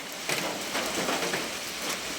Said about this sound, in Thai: มือนึ่งฝนซัดลงมา ทุกคนเอ้ยฝนตกลงมา